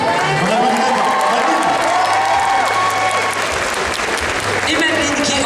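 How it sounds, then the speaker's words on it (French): Audience applause at a cosplay contest prize-giving, dense sustained clapping from a crowd close by with occasional cheers, and a voice speaking over it. "On applaudit"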